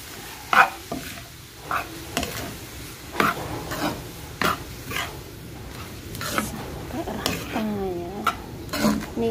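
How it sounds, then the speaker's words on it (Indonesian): Ayam risol filling being stirred in a pan with a utensil, soft scraping and light clinking strokes repeating irregularly over a faint low sizzle. "Kita aduk."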